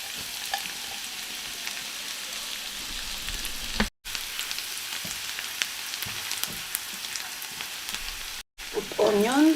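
Garlic fries in a pan with a steady, close sizzle and crackle, broken by two brief silent gaps and some stirring scrapes near the end.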